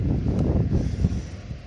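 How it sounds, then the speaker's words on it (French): Low, steady wind buffeting the microphone throughout, a dense rumble with gusty swells and no clear speech. "Excusez-moi pour le vent là, il va pleuvoir"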